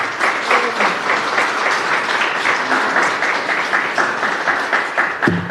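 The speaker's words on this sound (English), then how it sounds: "Borough President Donovan Richards, give him a round of applause." A crowd applauding steadily, dense clapping throughout at moderate volume, with no talking over it.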